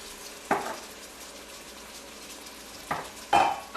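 Garlic going into a pan of chicken and wine for Greek chicken kokkinisto, cooking with a low steady sizzle, broken by three sharp clinks and scrapes of a utensil against the pan.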